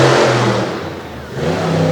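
The Overkill Evolution Ford monster truck's engine roars loud and close at a stadium event, revving high, dipping briefly and then surging again with a throaty, rumbling drone.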